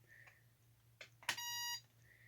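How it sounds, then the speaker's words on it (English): A Holy Stone HS170 drone's new remote controller powers on: quiet electronic chirps lead into a sharper, louder beep tone held for about half a second, with a faint low hum underneath. "Now here's the new controller getting turned up."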